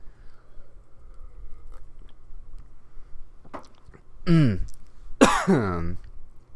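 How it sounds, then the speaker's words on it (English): Two rough, gravelly throat clearings close to the mic, the second louder and longer, after a few faint clicks and quiet background hum. "I gotta clear my throat"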